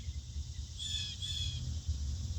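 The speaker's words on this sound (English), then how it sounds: "You hear them birds?" Faint high chirps from a bird or two drift over a steady low outdoor rumble, with a short burst of twittering in the middle.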